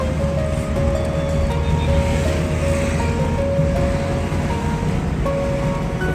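Suzuki Celerio with automatic manual transmission cruising in fourth gear, a steady engine drone and road rumble with a sustained whine, continuous and fairly loud, no talking.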